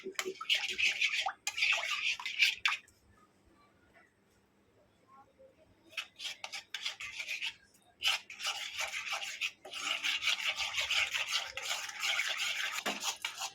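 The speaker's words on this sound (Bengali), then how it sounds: "অল্প অল্প করে দুধ দিয়ে এটাকে গুলিয়ে নেব।" A spoon stirs a milk powder mixture with warm milk in a bowl, producing bursts of scraping and swishing that pause for a few seconds and then resume steadily, close and fairly quiet.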